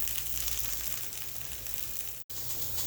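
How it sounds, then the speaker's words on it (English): Italian sausage browning in a pan gives a steady, even sizzle that runs close and fairly loud, broken by one brief dropout near the end, with no talking. "we're gonna go ahead and brown our Italian sausage"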